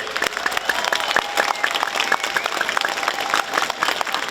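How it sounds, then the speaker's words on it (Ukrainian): Crowd applause greeting soldiers at a public meeting in Uzhhorod, a steady mass of clapping with sharp individual claps standing out and a few voices underneath. "Оплесками привітаємо наших воїнів."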